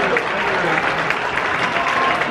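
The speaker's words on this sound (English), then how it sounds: "Thank you, dancers, for that applause." Ballroom dancers at a waltz competition applauding, a steady, dense patter of clapping with faint crowd murmur underneath, even in level throughout.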